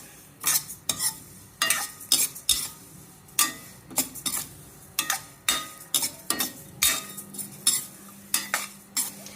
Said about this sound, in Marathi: आता अशी डाळ खरपूस भाजून घ्यायची.